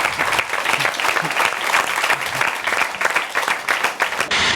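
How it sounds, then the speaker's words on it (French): Studio audience applauding on a French-language football talk show, dense steady clapping for about four seconds, fairly close and even in loudness, then breaking off abruptly at the end. "Potete applaudir quand même."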